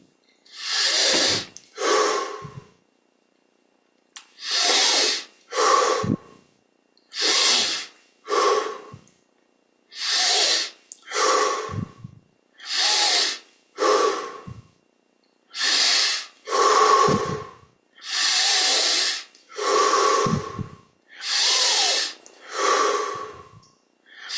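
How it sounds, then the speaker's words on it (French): Deep, forceful breaths in and out during a guided breathing exercise, about a dozen long, loud rushes of air in steady rhythm with short pauses between, very close and unaccompanied by speech. "On augmente un petit peu l'amplitude des respirations."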